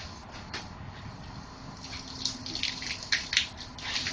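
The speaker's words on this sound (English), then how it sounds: "Now we're going to take the water hose" Water from a hose splashing and dripping while rinsing resin out of a tank's threads during a media resin replacement, an uneven spatter of drips and bursts that grows louder toward the end, with no talking.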